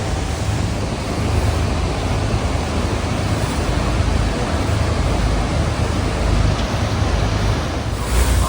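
Thundering roar of Horseshoe Falls at Niagara Falls, heard from a tour boat drawing closer, a dense, steady broadband rush with low rumble and wind on the microphone, continuous and loud throughout with no talk.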